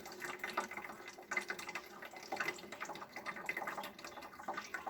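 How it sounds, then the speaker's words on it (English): Water trickles and splashes as it is poured slowly in small amounts, a steady, uneven liquid patter with no talking, fairly soft and close. "pour a little bit in at a time, and just listen out for it"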